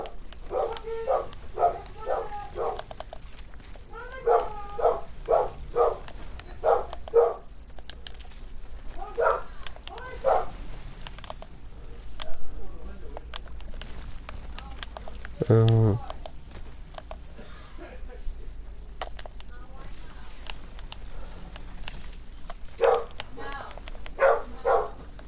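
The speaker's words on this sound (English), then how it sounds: "Oh, that dog is barking." A dog barks in repeated bursts at moderate distance, several sharp volleys spread across the stretch, with a brief whimpering yelp partway through, all under steady background game sound and occasional talk.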